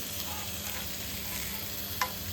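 Koramenu fish frying on a tava, a continuous close sizzle with one faint utensil tap near the end.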